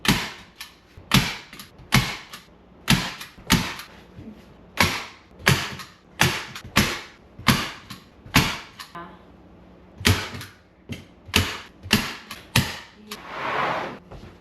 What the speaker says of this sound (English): We're going to start from the top, and then we're going to stretch it tight down there, staple down there